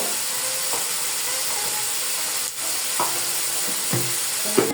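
Cinnamon, cardamom and cloves sizzling steadily in hot oil, a constant frying hiss with a few light clinks and stirring taps scattered through.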